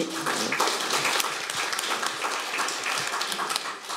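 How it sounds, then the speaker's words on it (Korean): An audience at a public hearing on mental health policy claps to welcome the next panel speaker, a moderate, continuous patter of many hands in a hall with no talk over it. "예, 박수로 모실게요"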